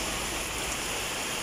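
Rain falling: a dense, steady hiss of broadband noise with no breaks, faint and continuous over a short stretch.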